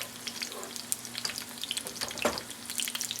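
Hot dog taquitos frying in a pan, a soft crackling sizzle dotted with sharp pops and spits, moderately quiet and unbroken by talk.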